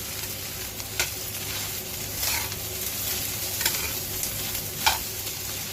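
Roasted turkey fried rice stir-fried in a stainless steel wok, a continuous soft sizzle with a few scraping strokes of the spatula against the metal, close and moderately quiet, with no talking.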